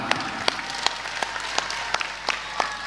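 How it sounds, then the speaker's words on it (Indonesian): An audience at an Islamic religious gathering, a pengajian sermon event, claps in brief scattered applause, with sharp individual claps standing out over a soft crowd wash. "tepuk tangan"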